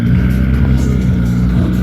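A drag racing car at the Slovakia Ring Power Fest runs hard at full throttle, a loud, steady, close engine roar with a deep rumbling tone lasting the whole moment.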